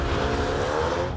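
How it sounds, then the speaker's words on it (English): Yellow 2020 Mercedes-AMG A35 hot hatch launching hard from a standstill using launch control through its twin-clutch gearbox; a loud, sustained engine roar with tyre squeal across a brief moment, no voices. "Thanks to its masterful launch control system, the yellow car vaults off the mark with precise aggression."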